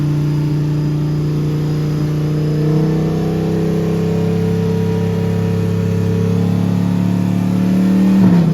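A car engine rumbles with a steady low drone that swells as it revs near the end, loud and close at a Summer Bash event in Pärnu.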